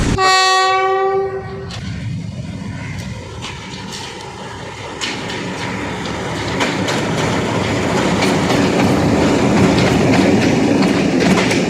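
The Green Line Express pulls in at Mandra railway station, opening with a loud sustained horn blast, then a heavy, continuous rumble and rhythmic clatter of wheels and railcars passing close by, growing steadily louder.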